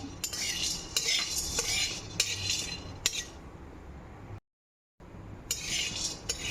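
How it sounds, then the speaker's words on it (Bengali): Black peppercorns being lightly dry-roasted in a pan, stirred with a metal utensil: repeated close scraping and clinking strokes with a faint rattle, one brief gap of silence, no speech. "গোলমরিচগুলো হালকা করে আমি একটু ভেজে নেব"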